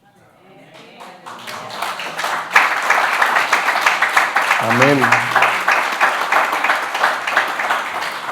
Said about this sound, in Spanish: voy a desafiar su aplauso